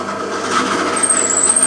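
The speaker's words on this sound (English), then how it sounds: "Now we're going to countersink that" Countersink bit in a drill cutting into timber for a bedside cabinet, giving a steady close grinding rasp that runs through the whole moment with a slight rise partway.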